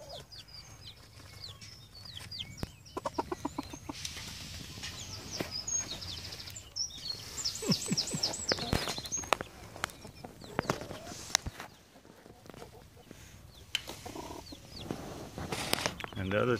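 Chickens cluck and chatter close by in repeated bursts, with rustling and the occasional soft flutter between calls.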